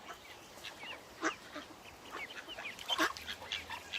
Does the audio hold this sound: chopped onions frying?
no